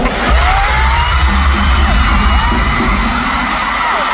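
A concert crowd at a show screams without a break, a dense, loud wall of shrieks and cheering that holds steady throughout.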